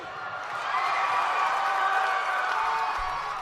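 A soundboard crowd-cheering effect plays a steady, dense roar of a cheering and clapping crowd, loud and continuous without a break.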